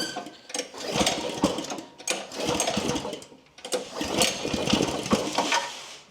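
A Yardmax Power Trackbarrow's small engine runs after a carburetor repair, giving a steady close mechanical chatter with a rapid ticking rhythm that surges and dips in a few uneven bursts.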